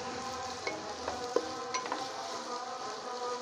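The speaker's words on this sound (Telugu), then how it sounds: "ఇది కొద్దిగా మనకి వేగిపోవాలి, కొద్దిగా మంచి గోల్డ్ కలర్ వచ్చే వరకు ఫ్రై చేసుకోవాలి." Something fries in a pan for village-style chicken biryani, giving a steady, fairly quiet sizzle with a few light stirring clicks. No voices are heard.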